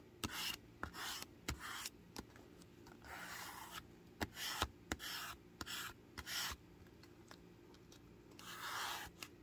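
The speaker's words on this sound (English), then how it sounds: "Bring it on top, use my bone folder to pick up the ink." A bone folder rubs across paper laid over a foam stamp to lift the ink, giving repeated short scratchy strokes in an uneven rhythm, close and quiet with no talking.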